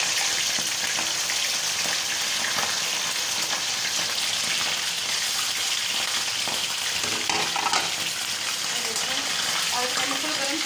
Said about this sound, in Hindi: अभी मैं इसमें चिकन डालने लगी हूँ।